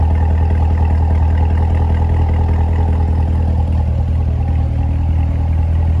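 A 2019 Corvette Z06 1LZ idling, a loud, steady low engine rumble with an even mechanical hum and no pauses.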